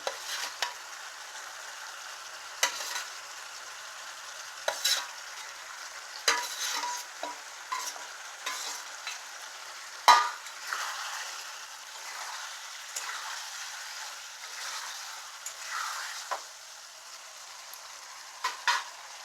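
Paneer and boiled potatoes in a simmering curry, stirred with a spoon at intervals, giving quiet repeated scrapes and clinks over a soft bubbling fry, close but low in level.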